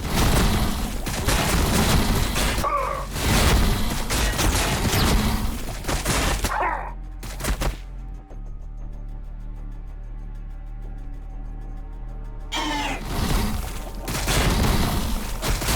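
Heavy gunfire and explosions in the video game Warhammer 40,000: Battlesector come in loud dense bursts, break for a quieter stretch of soft background music, then erupt again near the end.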